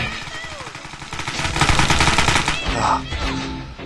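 Rapid, loud machine gun fire in the Xbox 360 game Greg Hastings Paintball 2, a dense continuous rattle of shots that swells in the middle, with a voice talking over parts of it.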